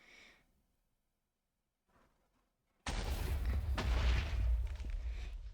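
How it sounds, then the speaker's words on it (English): A small TNT cannon in Minecraft fires after near silence, giving a sudden loud, low boom that rumbles and holds for a few seconds, with no talk. "It's a small TNT cannon."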